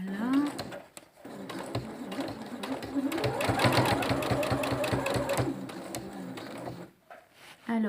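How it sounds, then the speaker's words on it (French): Sewing machine stitching bias binding into a groove on a swimsuit, a steady mechanical whirr running in a few bursts with short pauses and a voice talking over it. "là je termine de piquer mon biais là, donc dans le sillon"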